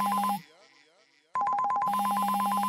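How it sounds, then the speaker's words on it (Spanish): A cell phone ringtone rings loudly and close, a bright repeating electronic melody that cuts out briefly and then resumes. "cuando suena tu celular"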